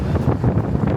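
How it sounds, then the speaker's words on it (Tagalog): Strong wind buffets a microphone outdoors in Hong Kong, a loud continuous low rumble filling the whole moment. "Medyo malakas pa rin yung hangin."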